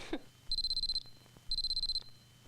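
An alarm clock beeps in two rapid pulsed bursts, each about half a second long, separated by a short pause. The beeps are clear and steady over a quiet room.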